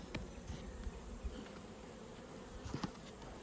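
Honey bees buzz steadily up close at a hive entrance, a dense hum with a few louder passes near the microphone, no voices.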